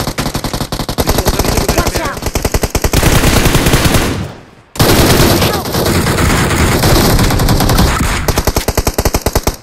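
Loud, dense automatic gunfire from the mobile shooter game BGMI rattles in rapid continuous bursts, broken by one brief pause before resuming just as intensely.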